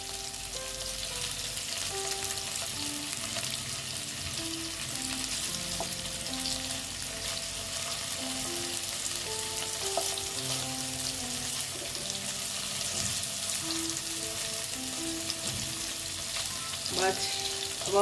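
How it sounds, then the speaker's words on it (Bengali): Paneer pieces fry lightly in a pan with a steady, even sizzle throughout, a few clinks of a utensil scattered through it and no talking. "আমি খুব কড়া করে ভাজবো না পনিরগুলো জাস্ট একটু ভেজে নেওয়া"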